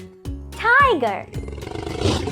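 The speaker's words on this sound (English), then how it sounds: "Tiger," A tiger roars once in a children's animal-learning cartoon: a loud, rising-then-falling growl lasting about half a second, followed by bright cartoon background music.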